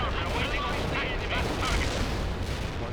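Dense, continuous battlefield gunfire and artillery from the real-time strategy game World in Conflict: Soviet Assault, loud and unbroken with overlapping booms and shots, a voice faintly mixed in.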